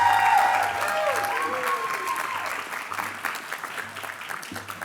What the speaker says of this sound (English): let's give them all a big clap